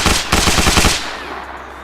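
Full-auto rifle fire in the video game Arma Reforger: a rapid, loud, close burst of about eight evenly spaced shots, then the reverberant tail dies away.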